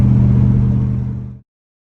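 An LS V8-swapped Mazda RX-8 revs loudly and close up with a deep, steady engine roar that holds for about a second and a half, then cuts off abruptly into silence.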